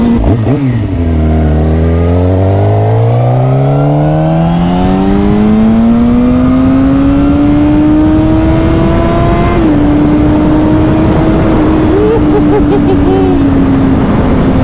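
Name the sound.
Suzuki GSX-R 600 motorcycle engine revving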